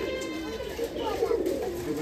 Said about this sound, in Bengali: চারিদিকে ছড়া আছে কবুতর।